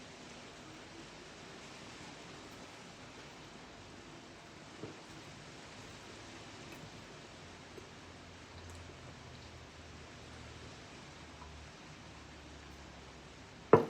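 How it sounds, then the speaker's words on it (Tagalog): Heavy rain gives a steady, even hiss at fairly low volume. Under it runs a soft low hum, with a few faint taps and one sharp knock right at the end. "Lakas na ng ulan."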